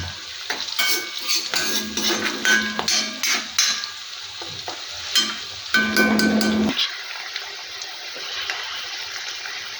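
Chillies fry in oil in an iron pan, with a bright crackling sizzle and repeated metallic scrapes and clinks as they are stirred, then a quieter steady hiss.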